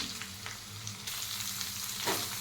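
Chopped onion, green chillies and curry leaves frying in oil in a pan, with a steady close sizzle and occasional stirring scrapes, no voices.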